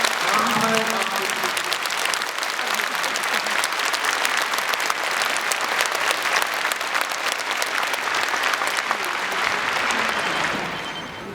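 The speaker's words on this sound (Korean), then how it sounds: "하느님께 감사의 박수" A large audience at a Catholic bishops' ordination celebration applauds steadily and loudly, dense clapping sustained throughout before tapering slightly at the end.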